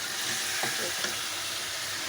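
Meat frying in oil in a pan until browned and releasing fat, a dense continuous sizzle with a couple of faint utensil scrapes, close and steady.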